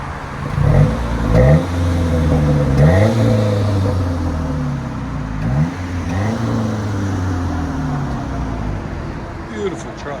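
A 2004 Nissan Frontier with a 2.4L engine and a Flowmaster Delta 40 series exhaust revs up several times, each throttle blip rising and falling in a deep, loud exhaust note, with a steady idle between the revs.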